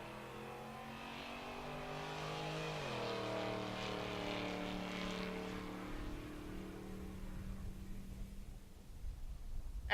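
A drag race car at Pueblo Motorsports Park in Colorado revs at a distance, its engine tone climbing through gear changes in a long droning pull before fading away.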